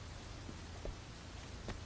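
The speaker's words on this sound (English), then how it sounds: "It's fucking raining" Steady rain hisses across the full range in the game Sleeping Dogs, with a few brief drop or splash accents over the constant wash, at a low level.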